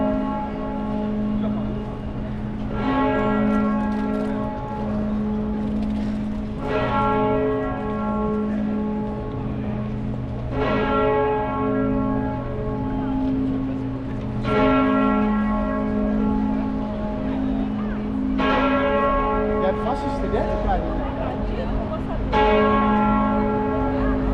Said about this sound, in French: Ça sonne les coups de 11h.